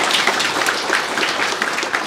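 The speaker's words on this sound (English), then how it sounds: "It's worth a clap." Audience applause at a Western Australian venture capital event, a steady wash of many hands clapping throughout, fairly close and moderately loud with no voices over it.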